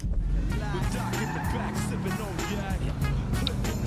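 A car from the garage in GTA V drives off with a loud engine roar, and its tires squeal and skid several times in quick bursts while someone talks over it.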